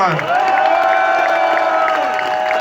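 A crowd at a street demonstration for liberty outside the Assemblée nationale in Paris cheers loudly, with a sustained, steady tonal blare riding over the mass of voices and clapping for a couple of seconds.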